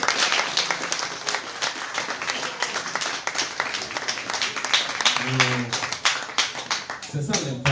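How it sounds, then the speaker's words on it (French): A theatre audience applauds after a stage play, a dense run of many claps at a steady, lively level, with a voice speaking briefly over the clapping near the end. "On applaudit encore."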